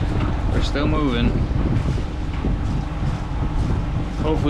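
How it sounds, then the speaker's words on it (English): Strong wind roars steadily and buffets the microphone throughout, a continuous rushing blast with no letup. "Hopefully these intense gusts don't last."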